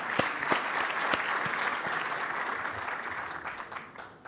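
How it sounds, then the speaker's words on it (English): An audience applauds, with dense clapping that stays loud and steady and tapers slightly toward the end. A few sharper claps stand out near the start. "Let's give them an applause right now"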